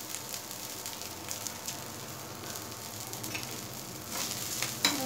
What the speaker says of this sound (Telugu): ఇలా చిగురంతా బాగా మగ్గిపోయే వరకు వేయించుకోవాలి మనం